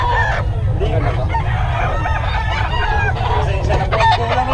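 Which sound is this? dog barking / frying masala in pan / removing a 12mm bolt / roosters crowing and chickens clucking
roosters crowing and chickens clucking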